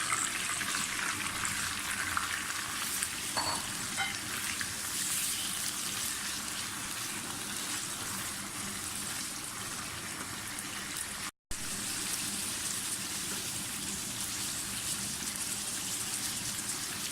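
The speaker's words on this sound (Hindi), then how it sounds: "तो उसको हमें जब तक भूनना है जब तक इसका कलर ना चेंज हो जाए" Mutton sizzles steadily in a pan with garlic-ginger paste, a loud, dense hiss and crackle of frying that runs unbroken apart from one brief cut.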